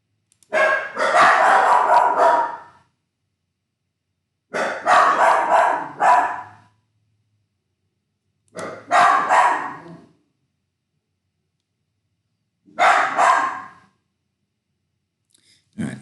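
Dogs bark in four separate loud bursts, each a cluster of rough barks lasting one to two seconds, with quiet gaps between them and no talking.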